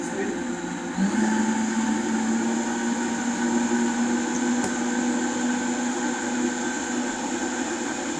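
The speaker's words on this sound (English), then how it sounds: "We just let that blend. Blending nicely." A countertop blender purees cooked russet potatoes, a steady loud motor whir holding one pitch after a brief speed increase near the start, continuous throughout.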